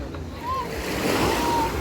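Sea waves wash onto a white-sand beach in Ksamil, Albania, a soft continuous surf rush with light wind, heard at moderate level without speech.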